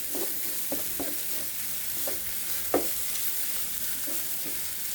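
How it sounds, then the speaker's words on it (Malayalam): Grated coconut being stirred and roasted in a pan for a green bean thoran, a soft continuous sizzle with light, irregular spoon scrapes close by and no talking. "നന്നായിട്ട് മിക്സ് ചെയ്യാം. തേങ്ങ ഒന്ന് നല്ലതുപോലെ വരട്ടിയെടുക്കണം."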